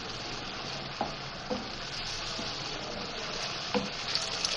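Onion-tomato masala for aloo matar sabzi stirred in a pan, a steady soft sizzle with occasional spoon scrapes and taps, close and fairly quiet.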